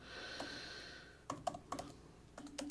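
Bursts of clicking keystrokes on a computer keyboard, quiet and close, arriving in a few quick clusters with short pauses between them, no voices.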